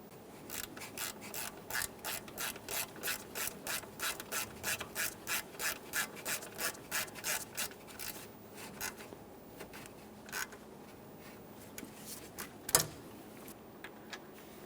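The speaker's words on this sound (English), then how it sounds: "Now that we've got the lower bolt for the alternator in place, we can continue on to snugging and torquing each of these" Rapid, even ratchet clicks from a wrench snugging alternator mounting bolts on a Toyota Sienna's engine, a close run of rhythmic clicking for several seconds, then scattered faint taps and one sharp knock, no speech.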